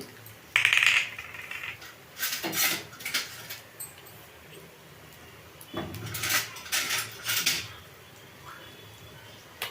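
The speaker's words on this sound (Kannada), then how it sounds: "ದ್ರಾಕ್ಷಿ ಗೋಡಂಬಿ ಹಾಕ್ತಾ ಇದ್ದೀನಿ" Raisins and cashews drop into a pot of moong dal payasa, giving scattered light clinks and rustles in short bursts with quiet gaps between them, fairly close, with no talk.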